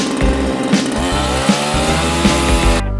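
A gasoline chainsaw cuts through wood at close range, its loud, steady engine whine pulsing slightly with the load for about three seconds before cutting off abruptly.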